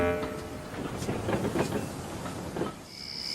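A toy train runs along a wooden railway track with a rolling, rattling clatter and a few clicks, then a brief high whistle-like tone near the end.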